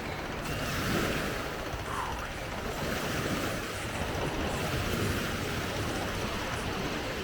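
Surf washing onto a beach at La Paz, Baja California Sur, a steady broadband wash with gusts of wind across the microphone, fairly close and continuous with no talk.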